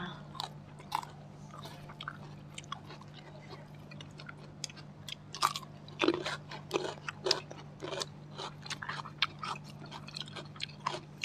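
Close, wet chewing and crunchy bites of grilled pork neck with sticky rice, with irregular mouth clicks and smacks over a steady low hum and no talk.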